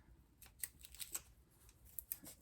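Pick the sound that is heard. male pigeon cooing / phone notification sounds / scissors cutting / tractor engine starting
scissors cutting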